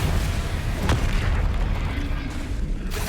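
A Confringo fire spell explodes in the video game Hogwarts Legacy, a dull booming burst over steady battle noise and spell effects, with a sharp blast near the first second.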